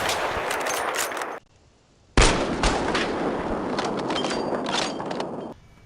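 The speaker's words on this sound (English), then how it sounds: "Hostile sniper fire in your area" Sniper rifle fire in Battlefield 3, loud broadband bursts of shots that cut out into near silence partway through, then resume as sustained heavy gunfire to the end.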